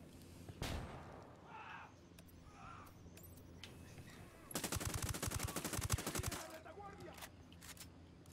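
A flashbang grenade detonates in the tactical shooter Ghost Recon Wildlands amid a loud, dense burst of rapid gunfire lasting a couple of seconds, with quieter shots and game sounds before and after.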